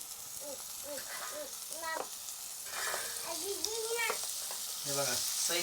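Cooked ridge gourd tipped into a pan of sautéed onions, a steady close sizzle under a voice speaking throughout, growing slightly louder toward the end.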